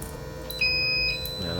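A cold room's backup system alarm beeps in short bursts of high-pitched electronic tone, moderately loud against a quiet background hum.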